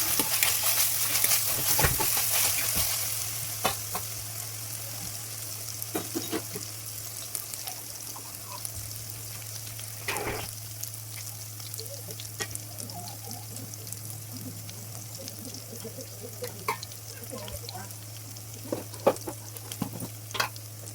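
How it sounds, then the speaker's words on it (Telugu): Green chillies and ginger paste fry in a pan for a spicy chicken masala fry, with a steady low sizzle, a constant background hum, and scattered stirring scrapes and clicks throughout, with no talking. "పచ్చిమిరపకాయలు, అల్లం పేస్ట్, ఇవన్నీ ఒక 2 minutes వరకు ఫ్రై చేసుకోవాలి."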